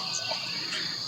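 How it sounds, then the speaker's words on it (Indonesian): Crickets chirp in a continuous high-pitched trill, steady and moderately loud, with no other sounds standing out. "suara jangkrik yang sudah"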